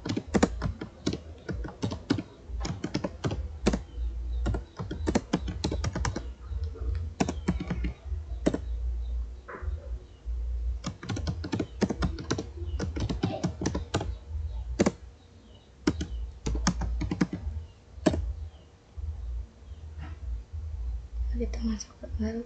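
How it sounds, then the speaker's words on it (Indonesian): Commands are typed on a computer keyboard in a networking setup, with rapid, irregular close key clicks and clacks running throughout in bursts and short gaps. "Di sini saya akan ketikkan komen yang sama seperti pada Ubuntu 1."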